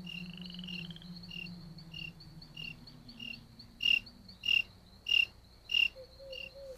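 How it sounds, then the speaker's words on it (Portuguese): Crickets chirp in steady, evenly spaced bursts across a wild forest setting, joined by low frog croaks; the chirps swell louder toward the end, with no voices present. "Pelo jeito, tem muitos grilos na Mata Virgem."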